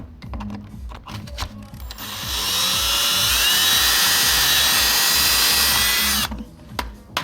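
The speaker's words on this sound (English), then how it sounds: "And then I'm going to go ahead and drill it in here." A power drill whirs steadily for several seconds, loud and close, its pitch shifting slightly as it bites into a carbon fiber front lip on an Audi S3 bumper, with brief clicks and handling before and after.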